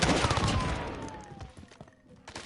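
Video game gunfire opens with a loud burst of rapid shots that trails off into scattered cracks and rattles as a faint whistling tone slides downward.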